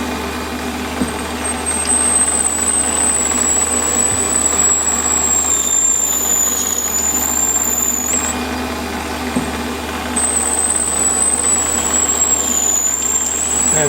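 A 5.4 mm drill bores out a needle file handle, giving a steady machine hum with a thin high-pitched squeal that rises and drops in two long stretches.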